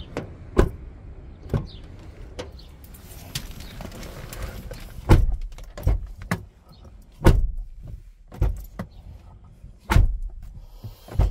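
A pickup truck door is opened and shut repeatedly during a used-vehicle inspection, giving a series of sharp thuds and latch clunks spaced unevenly over steady low background noise, close and loud with no talk.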